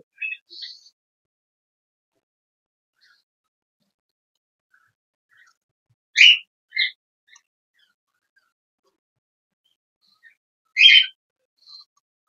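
Java sparrows in a cage give a few short, high chirps in three small bursts, separated by long stretches of near silence.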